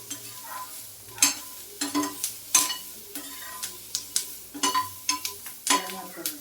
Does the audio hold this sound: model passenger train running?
no